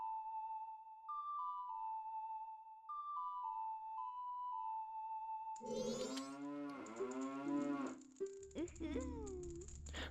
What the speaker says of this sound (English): Why did the cow make that noise?